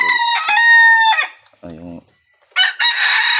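A young rooster crows loudly and close by, a drawn-out harmonic call, followed by a brief lower clucking phrase and a second burst of crowing at the end.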